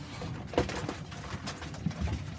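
Sheffield tippler pigeons coo in soft, repeated throaty bursts close by, with faint rustling and outdoor background noise between calls.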